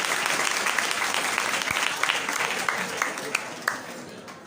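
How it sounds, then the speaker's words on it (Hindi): Loud applause from students and staff welcoming a guest speaker at a school function in India, a dense burst of many hands clapping with a few sharper individual claps standing out as it tapers toward the end. "जोरदार तालियों से स्वागत किया जाए"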